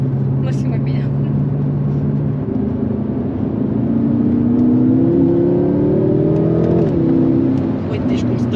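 A 750 hp BMW M6 drives with its engine and exhaust droning loudly from inside the car, the pitch climbing steadily under acceleration before easing off, while occupants talk over it.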